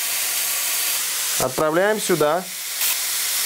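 Meat that was not cold from the fridge sizzles steadily in a hot frying pan, a broad hiss running the whole time while someone speaks briefly over it.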